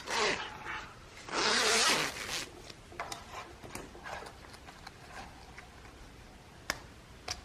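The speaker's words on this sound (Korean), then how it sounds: "이거는 점퍼 지퍼라고 해서 이렇게 끝이 지금 열리게 되어 있거든요." A jacket-style separating zipper on a knit sweater is pulled open in a couple of long, loud rasping strokes near the start, followed by softer scattered clicks and small handling ticks.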